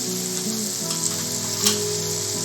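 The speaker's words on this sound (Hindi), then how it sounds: "इनको भी भून लेंगे हम।" Onions fried until pink, with half-spoons of turmeric, coriander powder and Kashmiri chilli powder, frying in a pan for dhaba-style dum aloo; a steady close sizzle runs throughout with a brief louder crackle near the end.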